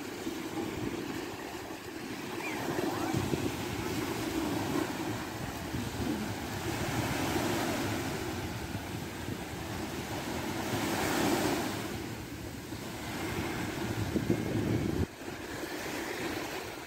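Sea waves wash onto a beach under gusting wind, a continuous loud surf roar with swelling surges and microphone wind rumble, no voices.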